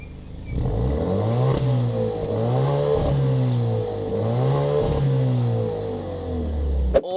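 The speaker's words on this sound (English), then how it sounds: "They are fake, but there are real exhausts inside, and they actually sound pretty cool." A 2023 Alfa Romeo Stelvio Veloce exhaust revs loudly and up close, rising and falling in about three sustained swells with a steady idle rumble beneath, ending in a sharp click.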